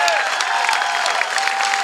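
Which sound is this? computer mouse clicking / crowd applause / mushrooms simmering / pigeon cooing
crowd applause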